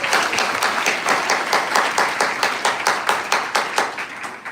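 Audience at a Sunday devotional bhajan gathering clapping in a steady, rhythmic beat, about three claps per second, loud and even throughout with a faint crowd murmur underneath.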